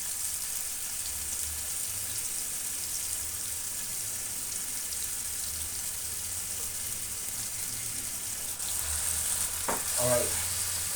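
Pasta gets stirred with Neapolitan sauce in a sizzling pan, giving a steady hissing fry throughout, with brief scraping and clinking near the end.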